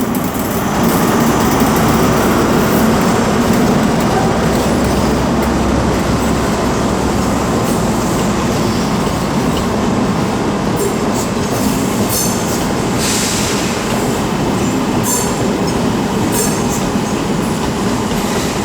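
A Class 323 electric multiple unit pulls into Birmingham New Street station, its loud steady rumble and wheel noise filling a long stretch, with occasional high squeals from the rails and no talking.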